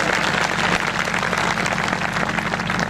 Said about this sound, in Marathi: जरा टाळ्या जोरात वाजवाव्यात